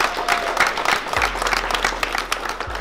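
A crowd applauding to congratulate someone at a school TV broadcast, producing dense, continuous clapping throughout, with a low rumble from the room underneath.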